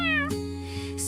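One clear cat meow rises and falls at the start, then gives way to a steady musical tone underneath.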